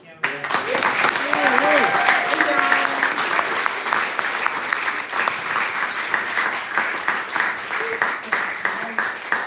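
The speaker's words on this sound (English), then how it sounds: "So how about a round of applause?" Enthusiastic applause from a sizable audience, clapping steadily, with some voices and brief tonal sounds mixed in near the start.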